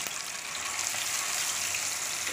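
Chicken drumsticks fry in hot ghee with a steady, close hiss and fine crackling sizzle, unbroken from start to finish.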